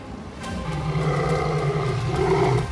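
A young lion roars, a loud, sustained close growling roar that holds steady for a few seconds with no voices over it.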